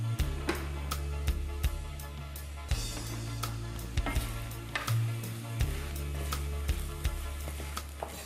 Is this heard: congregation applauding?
no